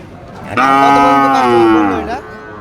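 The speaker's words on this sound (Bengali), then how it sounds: "বেশ তেজি গরু বাঁধেন বাঁধেন" A single long, loud Sahiwal bull moo, close and steady for about a second and a half, rises above faint background noise at a cattle market in Ambari, Dinajpur.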